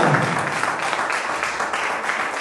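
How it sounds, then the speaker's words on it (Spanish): Church congregation applauding the Lord during a Spanish-language Christian sermon, a steady dense wash of clapping throughout, fairly loud and unbroken with no speech over it. "Si alguien lo cree, den un fuerte aplauso al Señor."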